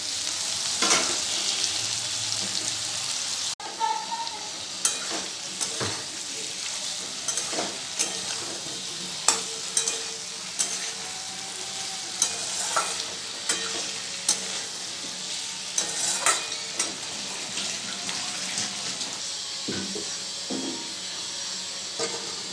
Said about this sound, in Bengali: টমেটো সব ছেড়ে দিয়েছি ভাজা ভাজা করে নেবো তো আদা বাটা দিয়ে দেবো আবার এক এক করে সব মশলাগুলো দিয়ে দেবো দিয়ে ভালো করে কষাবো